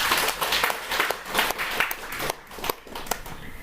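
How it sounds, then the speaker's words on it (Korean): A church congregation at a Sunday service claps for two members, a brief, somewhat scattered burst of hand clapping that thins out toward the end. "박수 한번 쳐드립시다."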